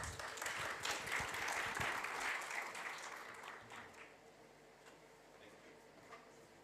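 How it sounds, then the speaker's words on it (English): Applause from an audience at an HR conclave swells into a dense wash of clapping, then thins and fades over the last few seconds, leaving faint room noise and a little murmur. "Give a huge round of applause."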